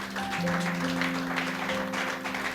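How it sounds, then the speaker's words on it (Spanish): A church congregation applauding at a Sunday service, steady dense clapping filling the room throughout, with sustained tones from an organ or keyboard beneath it. "De un aplauso a nuestro Dios"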